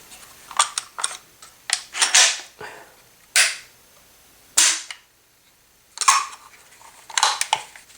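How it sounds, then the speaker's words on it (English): An SKS rifle's action is worked several times after reassembly, giving a series of sharp metallic clacks and slides in irregular bursts with brief pauses between them, close and loud with no talking. "You want to check to make sure that the action functions"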